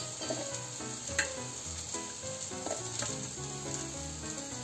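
Cumin seeds and chillies land in hot oil with garlic cloves in a pan, giving a steady, close sizzle and frying crackle throughout, with a few sharper pops rising above the even hiss.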